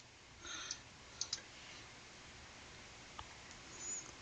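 A few soft computer mouse clicks sound while refreshing a screen in data-management software: a faint lone click, then a quick close pair, with quiet room noise between.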